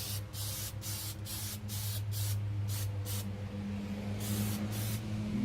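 Aerosol can of Plasti Dip rubber coating sprayed in a wet coat onto removed car emblems, a series of short hissing bursts in quick succession, some longer, close and fairly quiet.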